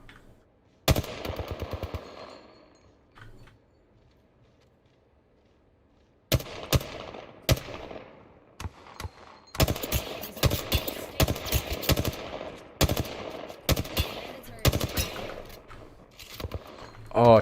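Gunfire in the video game Fortnite: isolated shots, then repeated rapid bursts of automatic fire crackle in quick succession, loud and close, with a player's voice talking over the shooting.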